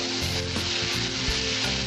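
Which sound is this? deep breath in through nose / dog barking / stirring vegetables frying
stirring vegetables frying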